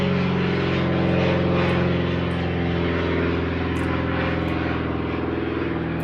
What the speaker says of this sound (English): That's a noisy little aeroplane, isn't it?